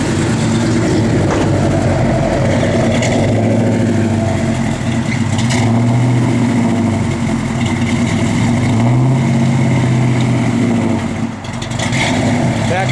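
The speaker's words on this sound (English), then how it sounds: "You hear that cam working." A 1971 Plymouth Road Runner engine idles close by with a loping, uneven cam rumble, steady throughout with slight rhythmic surges in the low end.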